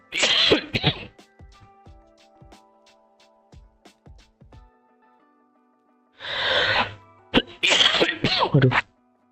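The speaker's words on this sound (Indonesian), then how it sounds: "saya masih batuk nih." A person coughs and clears their throat in harsh, close bursts at the start and again near the end, with quiet tapping sounds in between.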